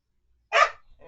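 A pet dog indoors lets out a single short, loud bark that trails off quickly into a faint rustle, with no voices over it.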